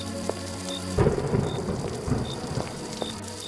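Cartoon-style rain and thunder effect: a steady hiss of rainfall under a rolling thunder rumble that swells about a second in, with a faint repeating high tone over the storm.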